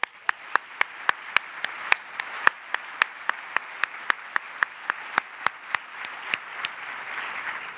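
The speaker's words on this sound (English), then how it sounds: "Let's also give one more round of applause for our tremendously talented student" Audience at the UW–Madison Diversity Forum applauds a student singer: a steady bed of clapping with sharp, evenly spaced individual claps standing out throughout, fairly loud and sustained for the whole stretch.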